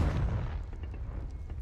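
A Confringo fire spell blast in the video game Hogwarts Legacy gives a brief, muffled low boom at the start that quickly fades into a quiet rumbling tail.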